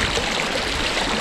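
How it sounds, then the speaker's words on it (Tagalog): A strong riverside current rushes past, a dense, loud, unbroken roar of churning water heard up close without any voices. "Malakas ang current."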